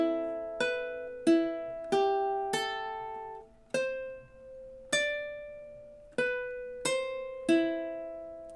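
Ukulele playing measures 9 and 10 of a theme, a run of about eleven clear plucked notes in an uneven looping rhythm, each ringing and decaying, solo and close.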